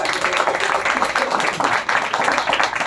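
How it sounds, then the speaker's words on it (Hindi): Dense, loud audience clapping at a Jain religious discourse gathering, a continuous wash of many hands close by, sustained for a few seconds with no break. "एक बार जोरदार तालियां विजय भाई"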